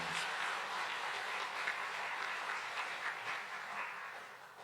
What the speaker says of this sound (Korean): 우리 성가대 박수 한번, 반주자에게 박수 한번 드리도록